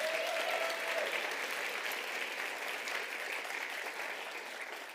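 An audience at a startup showcase awards ceremony applauds, a dense, steady wash of clapping from a sizable crowd that fades slightly toward the end.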